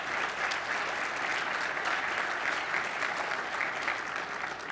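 An audience at a live tech demo applauds in a sustained, even wash of clapping, moderately loud and unbroken, with no talk over it.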